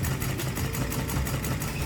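A small Stirling engine runs steadily as it winds thread onto a spool to lift a weight through a pulley, giving a continuous, fairly loud mechanical whir with a faint regular pulsing and no voices.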